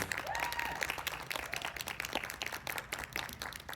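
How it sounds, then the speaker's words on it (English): Audience applause for a WonderCon 2025 panel fills a convention hall, dense steady clapping at moderate loudness with a faint voice briefly over it. "A round of applause for our panel, please"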